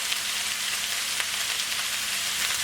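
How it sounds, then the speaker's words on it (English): Fried rice sizzling in a wok while being stirred rapidly: a continuous, dense hiss and crackle, close and steady throughout, with faint scraping of the stirring. "And just keep stirring rapidly. It will cook pretty fast in this wok."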